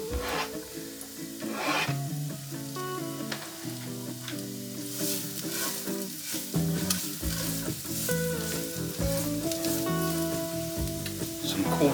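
Garlic sizzling in a pan while being stirred and scraped, a loud continuous fry with repeated rubbing strokes of the utensil against the pan, no voices.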